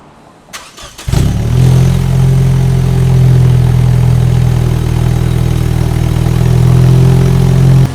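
A Lexus IS200t's 8AR-FTS turbocharged engine cranks and catches after a second, then settles into a loud, steady, rumbling idle close by, just after an oil change.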